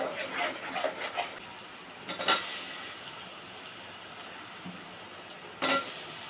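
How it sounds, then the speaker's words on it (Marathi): Masala paste for prawn gravy frying in oil: a soft continuous sizzle with occasional stirring clatters of a spoon in the pan, faint and close. "हे बघा, आपली पेस्ट रेडी आहे, ती पण आपण ऑइलमध्ये घालूयात। चांगलं परतून घ्यायचं आहे।"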